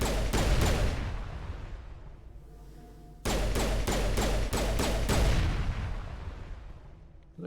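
Rapid bursts of gunfire from the video game Mass Effect, shots fired around enemies' kinetic barriers, loud and dense at first, pausing briefly, then resuming as sustained volleys with booming thuds.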